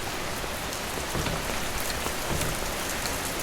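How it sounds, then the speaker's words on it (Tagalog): Heavy rain pours steadily at night outside a fried rice shop, a dense, continuous hiss of drops drumming on surfaces, close and loud with no voices. "Ay, piskot ni ulan pard."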